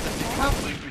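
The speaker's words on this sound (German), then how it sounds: "Auf mich schießt jemand." Gunfire crackles in Trouble in Terrorist Town during a multiplayer match, a quick dense burst of shots lasting about a second, close and loud, with voices mixed in.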